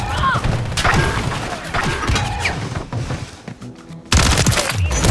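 Rapid automatic gunfire from an SMG in a first-person shooter video game, loud bursts of shots with a brief lull, then another loud volley, with players' voices mixed in during the fight.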